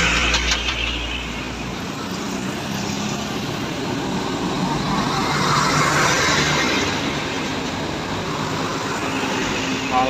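A heavy tronton truck rumbles past on a road in Aceh at dawn, a broad steady engine roar and tyre noise swelling and holding across the stretch, fairly loud and continuous.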